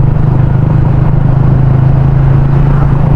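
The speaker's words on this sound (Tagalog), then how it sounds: "Ito, pag low RPM ganyan siya." A Yamaha Sniper 150 motorcycle fitted with an UMA 32mm throttle body idles at low RPM, producing a loud, close, steady low engine rumble with a slightly uneven pulse.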